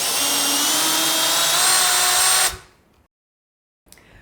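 A power tool runs steadily and loudly, unscrewing Torx screws from the shipping box of a flowbot ONE liquid handling robot, then cuts off and is followed by a short silence and a faint click.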